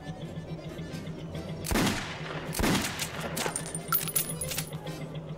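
Two sharp gunshots ring out about a second apart at a shooting range, followed by a few fainter pops and metallic pings, with steady background hum.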